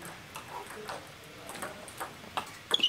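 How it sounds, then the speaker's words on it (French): Sharp table tennis ball hits tick back and forth in a quick rally, ending in a couple of harder, louder smacks, with faint background noise. "Claque revers dans mon coup droit."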